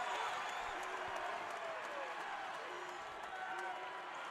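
Basketball arena crowd at a Furman versus Appalachian State college game roaring and cheering continuously, a dense wash of noise with a commentator talking over it.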